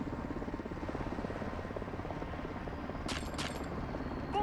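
Helicopter in the Modern Warfare II campaign, a steady loud rotor thrum with broadband engine roar throughout, a brief burst of higher noise near the end.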